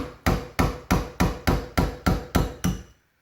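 Eight quick, evenly paced hammer strikes on a punch drive a pin out of an Adler A110 shotgun during a shell carrier install, crisp metallic taps close up with no talking.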